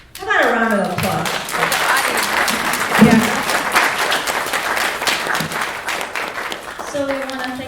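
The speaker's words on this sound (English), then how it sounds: "How about a round of applause?" Audience applause at a school talk on labor movements, starting right after a speaker's voice and continuing as steady, dense clapping from many people before a voice resumes at the end.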